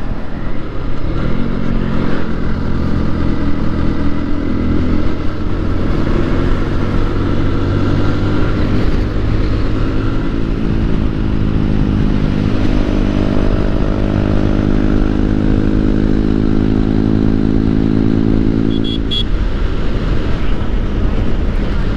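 A motorcycle cruising along a road on a long ride, its engine droning loudly and continuously with rising and falling pitch as speed changes, heavily buffeted by wind noise.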